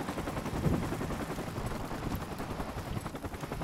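Rapid automatic gunfire in a Call of Duty Modern Warfare Remastered multiplayer match, a dense continuous burst of shots rattling for several seconds without any talk.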